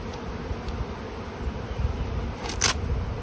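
Honey bees swarm around the front of a beehive, making a steady, close buzz that stays constant throughout.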